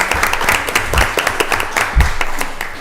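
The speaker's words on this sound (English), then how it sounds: "If we can give them one more round of applause for their dedicated service to Rockdale County." An audience at a Rockdale County Board of Commissioners meeting gives a round of applause. The clapping is dense and steady, close and fairly loud, with no talking over it.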